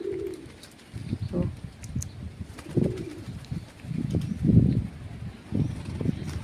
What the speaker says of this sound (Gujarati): થોડાક કબૂતર અહીંયા છે